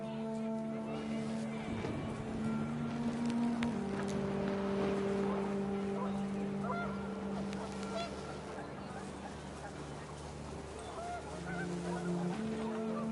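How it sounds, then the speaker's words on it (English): Panicked geese in a video game honk in a loud flurry over gusting wind, overlapping calls rising and falling for several seconds before fading. "The wind picked up, and panicked geese appeared and quickly went."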